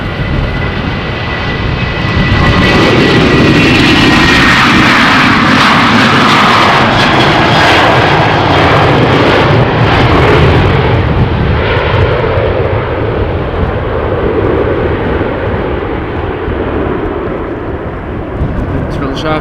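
Transavia Boeing 737 airliner taking off at Amsterdam Schiphol, a loud, close jet engine roar that swells quickly and holds before slowly fading as it climbs away.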